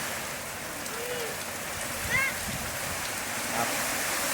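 A light drizzle patters steadily on a tin sheet roof, soft and even, with a few brief faint bird-like chirps over it.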